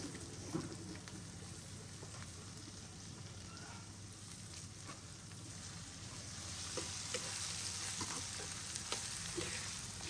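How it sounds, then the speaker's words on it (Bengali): Onions and chilies sizzle in a pan for a fish curry, whole garlic added too; a continuous, fairly quiet frying hiss with small crackles and stirring scrapes, growing slightly louder toward the end, no talk. "এখন এই যে পেঁয়াজ মরিচ ভাজছে"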